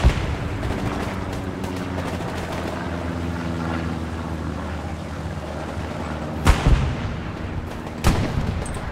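Tank cannon fire during a Hell Let Loose match, a steady rumble of battle noise broken by two sharp, heavy blasts near the end, with no talking.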